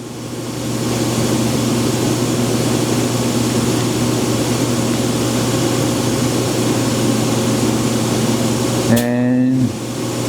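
A 2013 HURCO VM10Ui 5-axis CNC machining center with spindle chiller, cooling system and chip auger hums steadily and loudly, ending in a brief rising mechanical whir as a tool change begins.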